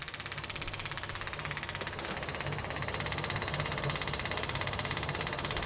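A 6 kW generator engine runs steadily with a fast, even chugging pulse, a close mechanical drone with metallic rattling that holds throughout.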